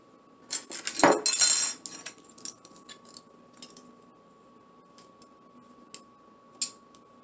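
Metal silverware is laid onto a table being set with pink decor: a cluster of bright clinks and clatters near the start, then sparse, light taps and ticks, close and clear with no talking.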